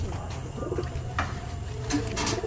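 Pigeons coo repeatedly at an all-India pigeon flying tournament, a steady low murmur of birds close by with faint background activity and occasional higher chirps.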